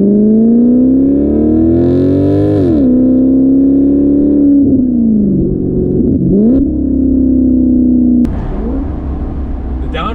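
A Maserati GranTurismo Sport Convertible's V8 revs hard with the top down, its loud tone climbing and then dropping through several downshifts, with sharp blips and crackles between the gears.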